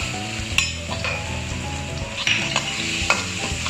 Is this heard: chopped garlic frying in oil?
yes